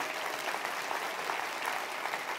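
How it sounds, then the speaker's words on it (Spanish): Continuous crowd applause from a church congregation during a Wednesday devotional service, dense even clapping throughout, fairly loud and unbroken, with no voices over it. "Denle un aplauso bien fuerte al Rey."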